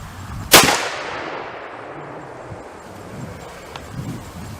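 A single sharp shot from a Weatherby .338 RPM rifle cracks close and loud, then rolls away in a long echoing decay over wind noise.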